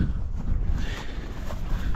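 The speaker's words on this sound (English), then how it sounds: "it's a little bit of a windy day today" Wind gusts outdoors in an open, remote spot beside a VW Crafter camper van, a low rumbling roar buffeting the microphone steadily for two seconds with no one speaking.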